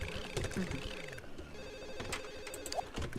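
A telephone rings in The Sims 1 life-simulation game, a warbling electronic ring repeating amid other game sounds and background noise.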